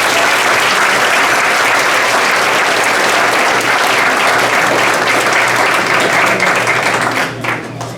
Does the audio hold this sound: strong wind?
no